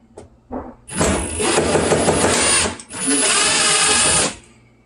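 A cordless power driver loosens screws on the wire connectors of a Samsung electric range, two loud close whirring bursts after a couple of brief clicks.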